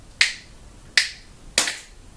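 Three sharp hand claps spaced evenly, each marking the first beat of a four-count bar during a music theory lesson, close and crisp with quiet gaps between.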